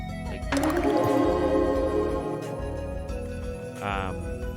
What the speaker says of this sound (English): I just hit a switch which lowered some water over here